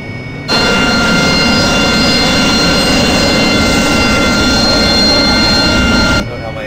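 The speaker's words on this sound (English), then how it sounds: "So now my engine goes down and up." A Harrier jet's engine roars in a flight video game, a loud steady broadband whine and rumble that starts abruptly, holds evenly for about six seconds, then cuts off.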